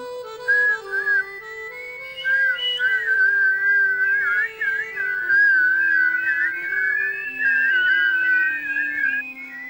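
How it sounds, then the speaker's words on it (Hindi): A person whistles a wavering, warbling melody over a sustained background tone, near and clear, in a continuous stream broken by brief gaps. "तुमने सीटी की आवाज सुनी"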